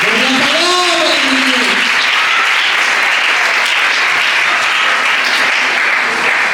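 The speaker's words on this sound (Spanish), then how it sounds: "Dale un aplauso al Señor." Church congregation breaking into loud, sustained applause after a Spanish-language sermon, dense clapping that swells and holds for several seconds as a voice trails off at the start.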